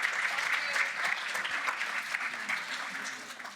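Sustained audience applause at a start-up finance event, a dense steady wash of many hands clapping with faint voices mixed in.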